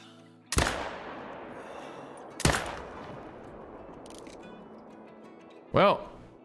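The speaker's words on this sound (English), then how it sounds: "we're gonna take a shot from right here at about 260 yards out" Hunting rifle fired at a distant target about 260 yards out in the hunting game Call of the Wild, two sharp loud cracks a couple of seconds apart, each with a long fading echo, followed by a brief mechanical clack.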